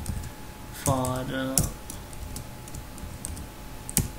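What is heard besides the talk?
typing code on a computer keyboard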